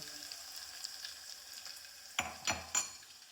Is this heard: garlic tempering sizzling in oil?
yes